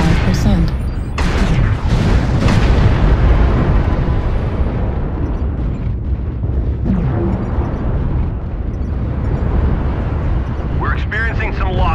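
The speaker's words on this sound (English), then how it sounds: "Warning, incoming missile." Loud, dense missile impacts and explosive blasts rumble continuously through a MechWarrior Online battle in a frozen city, with a synthetic cockpit voice speaking over the din.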